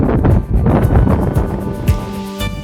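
Strong wind on a Dartmoor hilltop buffets the microphone in steady, roaring gusts with low rumbling turbulence, loud and continuous throughout, no voices.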